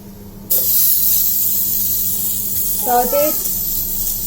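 Brinjal hits hot oil in a pan and breaks into a loud, steady sizzle that holds throughout, with a brief voice-like sound partway through.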